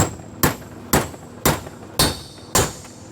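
A hammer taps valve stem seals into a Kia engine cylinder head, six sharp metallic strikes close by at an even, unhurried rhythm, each ringing briefly before the next.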